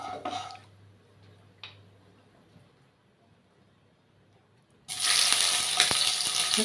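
Oil heating in a wok over a gas flame: a faint low hiss and a couple of small knocks as the pan is shifted, then a sudden loud, bright sizzle bursts in and holds to the end.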